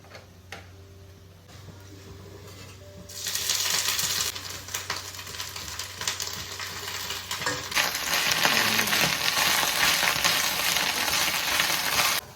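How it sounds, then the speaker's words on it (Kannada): Drumstick leaves frying in oil for bajji, starting as a quiet hum and then bursting into a loud, steady, crackling sizzle that swells further toward the end, with no talking. "ಸ್ವಲ್ಪ ಆಯಿಲ್ ಹಾಕೊಂಡು ಫ್ರೈ ಮಾಡಿ ಹಾಕ್ತೀನಿ ಬಜ್ಜಿಗೆ"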